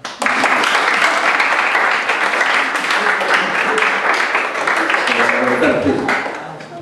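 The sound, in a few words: audience applauding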